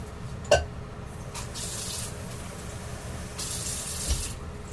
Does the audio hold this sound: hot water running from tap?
yes